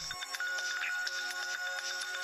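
A phone ringtone plays continuously, a bright repeating electronic melody with regular pulses, fairly close and clear with no talking.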